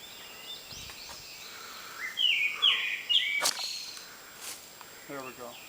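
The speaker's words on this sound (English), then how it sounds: "there's a bird talking to us" A bird calls with a few sharp, bright chirps along a creek trail near a small waterfall. The calls are moderately close and stand out over steady outdoor ambience and faint rustling.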